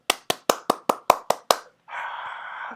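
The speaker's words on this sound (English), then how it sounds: "I know the crowd is cheering." Eight sharp, evenly spaced hand claps ring out close and fairly loud, followed by a short burst of steady crowd-like hiss.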